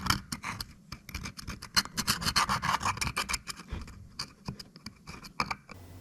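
Rapid, uneven bursts of rasping scrubbing as buildup is scoured out of the cooling reservoir of a Yamaha 4.2L V outboard, close and busy with short pauses between strokes, no speech.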